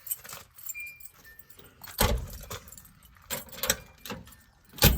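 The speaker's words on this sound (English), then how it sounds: "Grab the keys to the Dodge." Keys to a Dodge truck jangle and clink in several loud, irregular bursts of metallic rattling close up, with quieter handling noises between them and no speech.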